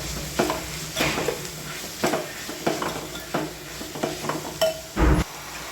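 Mushroom biryani masala with mint and coriander leaves being stirred in a pan, a series of close, distinct scraping strokes at a steady pace over a soft background sizzle, with no voices.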